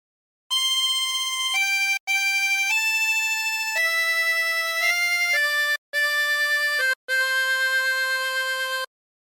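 Harmonica playing the hymn Holy Holy Holy Lord God Almighty, a clean sequence of sustained reedy single notes changing pitch phrase by phrase, with brief breath gaps between them.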